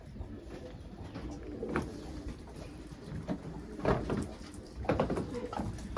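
Tumbler pigeons coo in a loft in several soft, low bursts over steady background noise, with a few brief knocks or shuffles in between.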